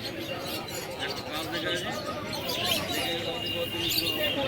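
Caged pigeons, patta and older birds, coo and chirp at the Birnagar market amid a dense, noisy crowd, the bird calls faint and mixed into the steady market din.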